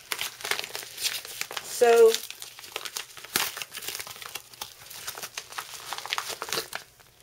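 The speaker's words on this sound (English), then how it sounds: "let's go ahead and cut in this packaging" Plastic packaging is cut open, giving crinkling, rustling and snipping sounds close up, with a person talking over it.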